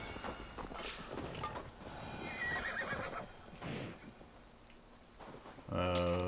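A horse neighs in Assassin's Creed Valhalla, a sharp whinny over game ambience with hoof clip-clop and footsteps, then a musical tone at the end.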